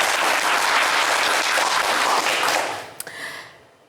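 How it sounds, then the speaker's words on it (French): A studio audience on a French game show applauds loudly and steadily for about two and a half seconds, then the clapping fades out, ending with a sharp thump and a brief tone. "on vous applaudit très fort également"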